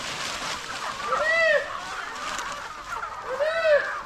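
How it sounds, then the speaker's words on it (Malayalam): Native free-range country chickens, pure leaf-litter and speckled breeds, call outdoors in two clear, fairly close rising-and-falling cries separated by a pause. "കാണാൻ വളരെ മനോഹരമായിട്ടുള്ള തനി നാടൻ കോഴികൾ, കലർപ്പില്ലാത്ത കരിയിലക്കോഴി, പുള്ളിക്കോഴിയൊക്കെയാണ് നമ്മൾ ഈ കാണുന്നത്."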